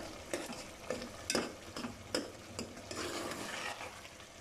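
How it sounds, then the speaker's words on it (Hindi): Chicken pieces fry with onion and tomato in a pan, a soft steady sizzle broken by irregular scraping stirs of a spoon, close and fairly quiet. "तो हमने चिकन को अच्छे से भून लिया है"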